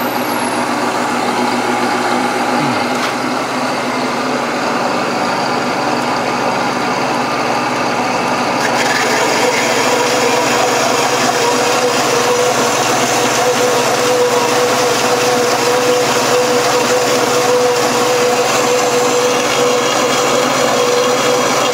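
A 4x6 metal bandsaw cuts through round steel stock with a steady, loud mechanical hum and whine that holds unbroken from start to finish, with no voices.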